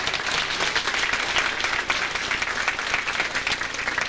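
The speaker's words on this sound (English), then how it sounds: "Give them a nice round of applause, please." Audience applause at a band cabaret concert, steady dense clapping from a crowd throughout, fairly loud and uninterrupted.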